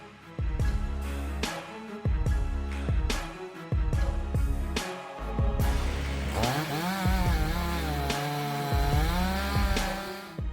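An MS-660 chainsaw with a 90-centimeter bar cuts through a knotty 1.2-meter-wide oak log, its engine loud and close, revving in repeated surges with a steady whining drone as it bites into the wood.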